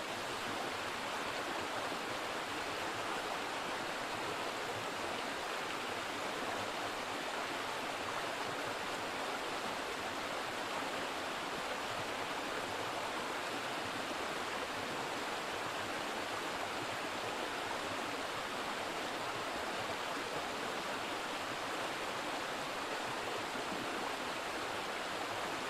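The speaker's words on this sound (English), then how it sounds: "This is one of the bigger waterfalls I've come across." A stream tumbling over small waterfalls in a Peak District gorge gives a steady, dense rush of water, close and unbroken throughout, with no voices.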